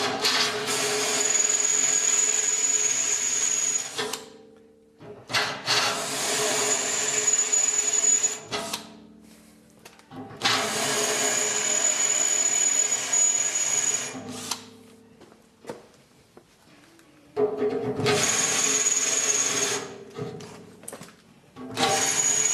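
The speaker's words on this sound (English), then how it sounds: "I'm going to drill it using a masonry bit to break through the enamel" A power drill fitted with a sharpened masonry bit bores into enamelled cast iron, running in four long loud bursts of steady whining grind separated by short pauses.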